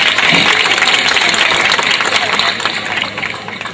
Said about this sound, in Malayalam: എല്ലാവരും കൈയടിച്ച് പ്രോത്സാഹിപ്പിക്കണം.